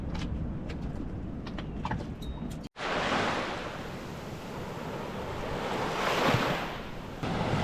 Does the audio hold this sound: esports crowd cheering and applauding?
no